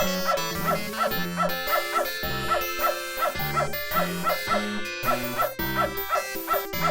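A dog in the retro point-and-click game Beneath A Steel Sky barks and whimpers in a repeating, rhythmic run of short yelps and whines, fairly clear and steady over several seconds.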